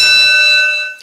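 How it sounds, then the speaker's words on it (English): A single loud timer bell marking the end of a one-minute speaking period at a California governor debate, ringing with a steady bright tone that fades out after about a second, with no voices. "would you remind us of the sound of the bell upon the completion of the 1 minute"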